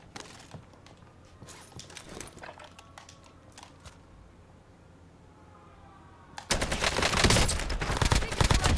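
Video game gunfire: scattered sharp shots at a moderate distance, then a quieter lull, followed by a loud, close, continuous burst of rapid automatic fire in the final seconds.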